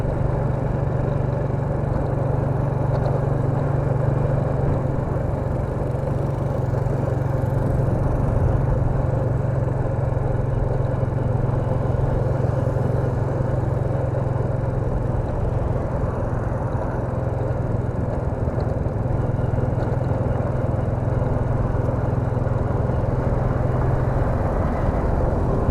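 A vehicle rides along Route 21 near Pakse, Laos, giving a steady mid-pitched engine drone with a low hum that continues evenly throughout, with no talk.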